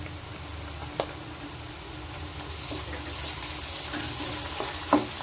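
Ginger garlic paste hitting a pan of frying beetroot, a soft steady sizzle with a couple of light stirring knocks, close and fairly quiet.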